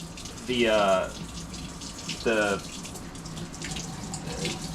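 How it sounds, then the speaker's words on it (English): Water poured by hand onto plants in a small urban garden gives a soft, continuous running trickle, with a voice briefly speaking over it. "we're watering, and since this is the first foray, we do not have a watering can."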